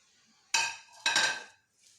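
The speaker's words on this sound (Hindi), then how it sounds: "अच्छे से मिक्स कर लेंगे।" Gram flour (besan) is stirred in a metal pan for vegan modak, with two distinct clanking scrapes of a spoon against the pan, close and with no voices.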